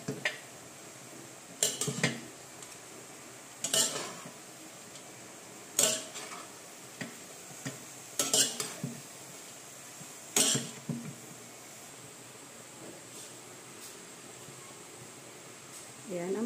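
Utensil scrapes and clinks against a pan while lumpiang ubod filling is stirred and mixed, coming in short clustered bursts every couple of seconds over a quiet background.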